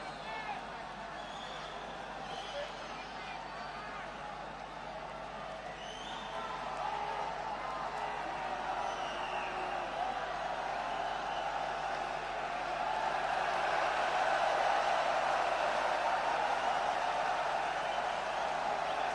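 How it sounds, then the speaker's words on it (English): Indoor arena crowd at a 1992 Thomas Cup men's doubles badminton match, a steady wash of many voices that swells louder midway and again near the end, with commentary talk over it. "a bit of crowd noise as a linesman gets changed"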